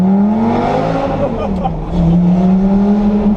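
A Lamborghini pulls away hard in first gear, its engine note climbing loud and close in a sustained rising roar, with a brief dip before the revs build again.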